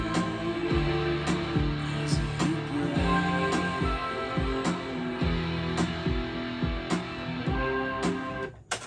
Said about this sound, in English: This is the sound of just the reverb track.